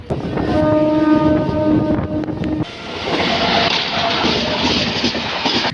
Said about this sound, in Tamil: சென்ட்ரல் ட்ரெயின் வந்துருச்சு